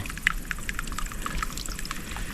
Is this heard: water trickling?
yes